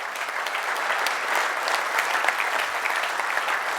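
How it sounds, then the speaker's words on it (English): Audience applause at a motivational speech on personal and professional success, a loud, dense wash of clapping from a large crowd, sustained evenly for nearly four seconds with no talk. "So give them a round of applause"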